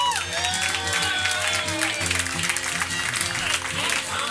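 A comedy club audience at a roast battle applauds loudly and continuously, with a dense crowd of clapping and cheers close to the mic and music playing underneath.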